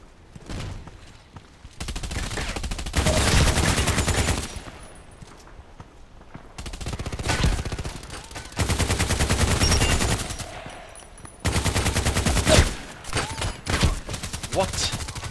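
Bursts of automatic machine gun fire in the sniper video game ADXsniper, loud sustained volleys lasting a couple of seconds each, separated by short quieter gaps, with a final ragged burst trailing off.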